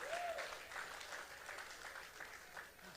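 A church congregation applauds during a televised sermon, with steady, sustained clapping from many hands in a large room at a moderate distance and no break.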